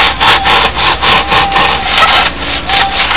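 A coping saw cuts through wood held at a right angle during construction of a Windy Sidewinder model, a steady loud rhythm of back-and-forth rasping strokes, about three per second, with no talk.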